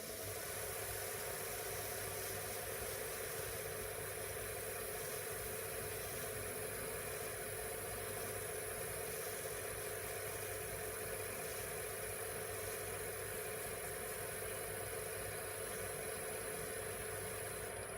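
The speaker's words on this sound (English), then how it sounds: "Just turn the lathe down a bit." A wood lathe turning a pen blank spins at reduced speed, giving a steady, continuous motor whir and hum with no breaks, alone and moderately quiet throughout.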